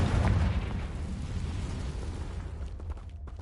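Fire-spell explosion in the video game Hogwarts Legacy: a deep, booming burst opening loudly, then a rumbling, crackling decay that fades over a few seconds, heard alone.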